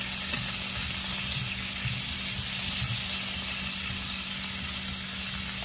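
Cut-up steak pieces frying in vegetable oil in a skillet for pepper steak, loud steady sizzle and hiss close up with occasional stirring bumps, no talking.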